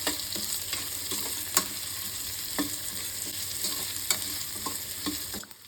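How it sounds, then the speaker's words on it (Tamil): Chopped onions frying in a pan for a Tamil intestine curry (kudal kulambu), a steady close sizzle with occasional stirring clicks and scrapes throughout. "நல்லா ப்ரௌனிஸாக வெங்காயம் வந்து நல்லா பொரிஞ்சு வரணும்."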